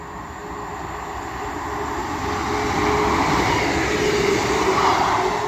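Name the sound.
Class 158 train passing from Leeds to Wigan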